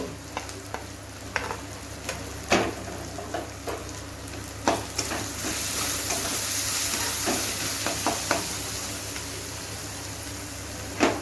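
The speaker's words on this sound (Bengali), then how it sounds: "পেঁয়াজটা লাল করে ভেজে নিয়েছি" Onions fried until reddish-brown sizzle steadily in a pan, with repeated scraping and clacking from stirring that stands out over the continuous hiss. Nobody speaks.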